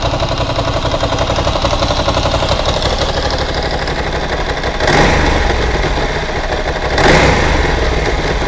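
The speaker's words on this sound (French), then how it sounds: "le ralenti retombe pas pile poil, elle reste un peu dans les tours avant de redescendre" A motorcycle engine idles steadily close by after a carburetor rebuild, not yet fully warm, with two short blips at about five and seven seconds where revs rise and hang briefly before settling back.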